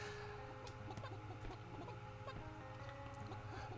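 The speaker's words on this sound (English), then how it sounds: "you get some nice little chicken sound effects" Cartoonish chickens cluck in the golf puzzle game Sling Puzzle: Golf Master, short scattered clucks and pecks heard under continuous, fairly loud background music.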